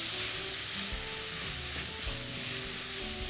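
Grated tomato, carrot and onion frying in a pan as they are stirred, giving a steady, loud, close sizzle with faint scraping and no voices.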